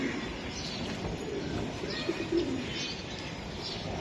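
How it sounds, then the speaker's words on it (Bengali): A racing pigeon from a club loft coos faintly amid a constant noisy background, with a couple of brief soft calls near the middle. "এই যে কবুতর"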